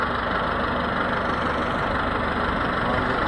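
A lorry engine rumbles steadily at low revs while the lorry drives through floodwater about three feet deep. The drone is loud, close and continuous throughout.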